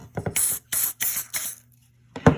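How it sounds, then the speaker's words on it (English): Clippercide disinfectant sprayed onto a hair clipper blade: several short, close hissing spray bursts in quick succession, a pause, then one more burst. "I'm gonna go ahead and spray that with my Clippercide."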